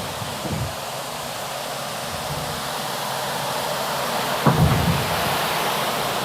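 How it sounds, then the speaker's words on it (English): Water spraying from a hose to wash the image out of a screen printing screen, a steady hissing rush with a brief louder splash near the end and no voices. "So use the water to wash out the image."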